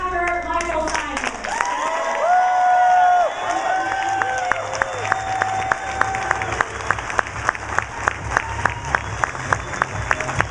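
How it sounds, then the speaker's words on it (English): Loud crowd applause with dense clapping and some cheering, continuing steadily for several seconds, with a voice speaking over it near the start. "One more giant big round of applause"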